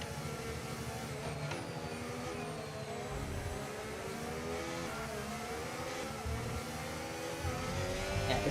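Engine of a damaged Vanwall Formula 1 race car in a racing video game roars steadily, with continuous revving and shifting pitch throughout, loud and close.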